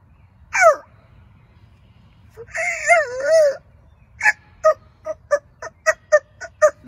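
A person imitates a turkey with a call meant to attract hens, giving a few drawn-out yelps followed by a quick run of short, evenly spaced clucks.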